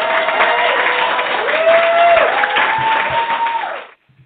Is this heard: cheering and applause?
yes